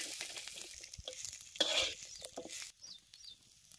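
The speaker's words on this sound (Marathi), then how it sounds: "आता हे कांदा आणि लसूण एकत्र करूनच भाजून घे" Onion and garlic roast together in a pan over a village wood-fired stove, giving a faint, uneven sizzle with soft crackles and a brief louder burst of frying noise midway.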